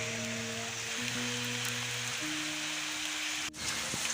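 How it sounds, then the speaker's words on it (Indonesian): Rain falls with a steady hiss under sustained tonal music in a Sundanese comedy film. "hujan."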